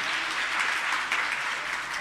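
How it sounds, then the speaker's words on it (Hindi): Sustained applause from a crowd at a school event in Delhi, steady and fairly loud throughout with no voices standing out. "एक बार जोरदार तालियों से सर का आभार व्यक्त करें।"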